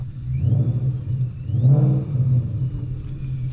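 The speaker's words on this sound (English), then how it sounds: "let's give you guys some revs real quick" A 1000hp Ford Mustang revs at night, a deep rumbling engine note that swells into a louder rev near the middle and then settles back to a steady idle, heard alone.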